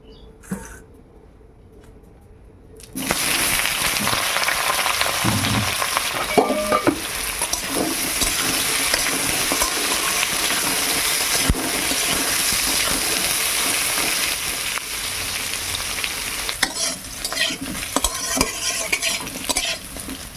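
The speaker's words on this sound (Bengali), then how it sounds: "এইবার আমি এঁচোড়টা ভালো করে ভেজে নেব।" Boiled raw jackfruit pieces fry in a pan for a jackfruit and prawn curry. After a quiet start, a loud, continuous sizzle sets in, broken by stirring scrapes and clatter.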